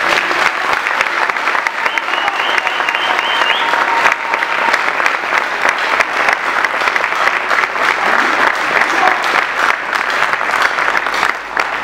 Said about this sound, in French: que je vous invite encore à applaudir